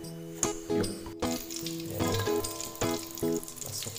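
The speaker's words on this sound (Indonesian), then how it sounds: "kita akan menggoreng bawang putih ya, biar minyaknya harum ya" Garlic sizzles and fries steadily in hot oil in a pan, with repeated stirring scrapes and bursts of bubbling spatter close up, no talking.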